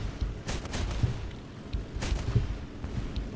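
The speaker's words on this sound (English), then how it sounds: "just missing those cannon shots" Aircraft cannons fire in short bursts during a War Thunder dogfight, thudding volleys heard twice over a steady engine drone, fairly close and punchy.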